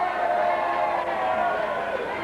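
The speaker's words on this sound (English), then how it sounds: "Now the crowd yelling" A wrestling arena crowd yells and chatters steadily throughout, with a voice talking over the noise.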